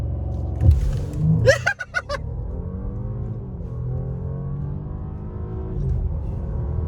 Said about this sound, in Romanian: Avem un mod Dynamic, cutia pe Sport, pe Dynamic, piciorul pe frână, piciorul pe accelerație, evident.